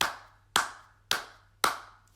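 Four sharp hand claps spaced evenly about half a second apart, each close and crisp, with brief ringing decay.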